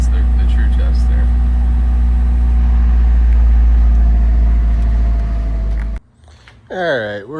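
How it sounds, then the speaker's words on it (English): A 1988 Alfa Romeo Spider engine idles steadily and loud with a low, even hum for about six seconds, then cuts off abruptly, after which a person speaks briefly. "Hopefully it will idle down."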